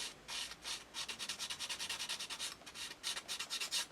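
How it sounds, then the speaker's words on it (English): Fine sanding stick rubbed over a plastic part of a 1/72 scale F-22 Raptor model kit, a quiet, close, rhythmic scratching in quick regular back-and-forth strokes. "I will use an actual sanding stick. It's a very fine one"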